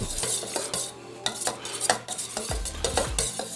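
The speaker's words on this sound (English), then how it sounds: "Let's go ahead and start stirring it in." Metal spoon stirring hot cream into chocolate in a bowl for a dacquoise cake, with close, repeated clinks and scrapes against the bowl in an uneven rhythm and no voice.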